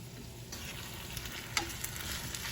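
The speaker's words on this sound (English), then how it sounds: "This way it fries inside." A potato frittata frying in a pan, giving a soft continuous sizzle close up, with a few faint scrapes and clicks as it is stirred.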